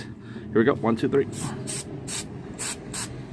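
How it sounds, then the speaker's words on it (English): Aerosol can sprays onto a GY6 scooter brake assembly in five short, sharp hissing bursts at a steady rhythm, close up, following a man's brief spoken count. "I'm gonna spray it like this"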